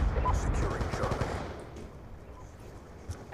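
Rapid automatic gunfire from Call of Duty: Black Ops 2 rattles in a loud burst that thins out after about a second and a half, leaving quieter scattered shots.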